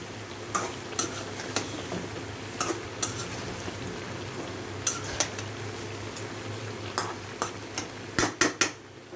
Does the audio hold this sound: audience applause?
no